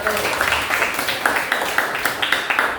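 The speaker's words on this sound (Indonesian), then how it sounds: "Oke, tepuk tangan buat kelompok 1." A classroom of students claps for a presenting group, individual hand claps distinct and rhythmic, close and fairly loud, continuing throughout with a faint voice underneath.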